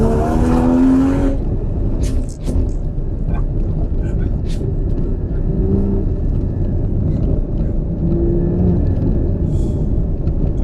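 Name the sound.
car accelerating hard in first gear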